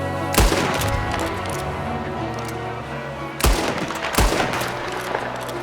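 Gunfire in Red Dead Redemption 2 as a fleeing man is shot: three sharp, loud reports, one early and two close together later, over a continuous game soundtrack.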